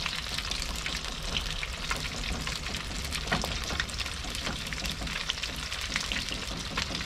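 Battered field shrimp and bean sprouts fry in hot oil, a dense, steady sizzle with crackling pops throughout.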